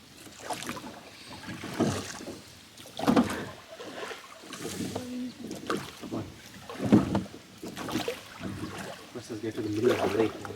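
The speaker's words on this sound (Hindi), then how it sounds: "एकदम ये हमारा बोट जा रहा है।" A rowboat is paddled across a lake in New York City, with rhythmic dipping strokes and water swishes repeating at intervals, wind buffeting the microphone, and people talking throughout.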